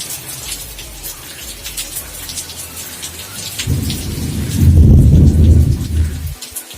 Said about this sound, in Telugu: చూసారు కదా, ఫుల్ వర్షం.